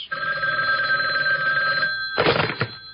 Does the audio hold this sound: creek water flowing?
no